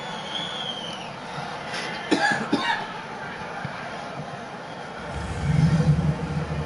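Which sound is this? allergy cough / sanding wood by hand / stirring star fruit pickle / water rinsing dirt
allergy cough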